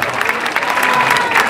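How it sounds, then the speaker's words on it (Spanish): Applause from a jaripeo crowd at a village patron-saint festival in Xonocuautla, Puebla, greeting a bull rider in the ring; steady, dense clapping fills the short stretch with no voices on top. "El aplauso que se lo lleve,"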